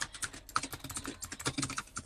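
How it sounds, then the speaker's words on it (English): Computer keyboard typing in a streamer's desk setup, rapid close-up key clacks in an irregular but steady stream, crisp and fairly quiet, with no voices. "Keyboard ASMR"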